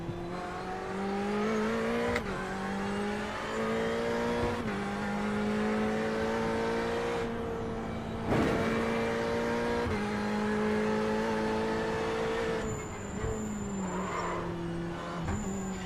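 A Mercedes AMG GT3 race car in a racing video game revs and shifts through gears, the engine tone climbing and dropping with several gear changes and a brief high whine, steady and close with no talking.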